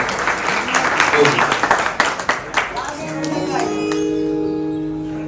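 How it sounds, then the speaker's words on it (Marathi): A crowd at an engagement sangeet applauds after a dance performance, loud dense clapping for about three seconds that fades into sustained tonal music. "तर त्यासाठी जोरदार टाळ्या वाजवतो म्हणजे काय."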